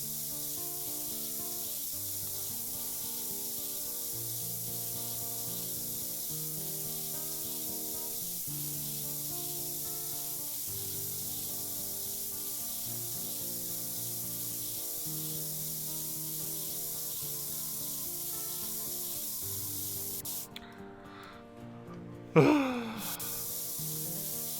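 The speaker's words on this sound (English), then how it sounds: "If you were completely pulled back on the paint needle on a real airbrush, I mean, it's going to come out like pretty solid." An airbrush spraying paint in the Model Builder video game, heard as a continuous even hiss over soft background music, ending with a brief click and a short swoosh.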